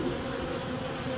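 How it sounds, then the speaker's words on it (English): Bees buzz around a new hive box, a steady, close, continuous drone with no talking. "It's got some bees on it."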